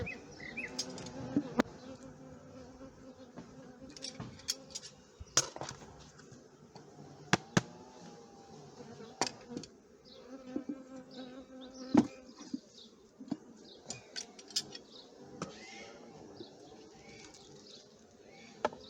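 Many honeybees hum and buzz continuously at close range around queen cells in a nucleus hive, a dense droning swarm with occasional louder passes and small clicks.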